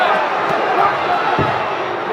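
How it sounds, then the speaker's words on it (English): A boxing arena crowd roars steadily throughout a fight, cheering and urging on a fighter in a continuous loud wash, with a commentator talking over it. "Crowd trying to egg him on."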